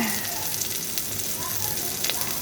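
Chicken with ginger and tomatoes sautéing in a hot pan gives a steady, soft sizzle with small crackles throughout, fairly quiet and even.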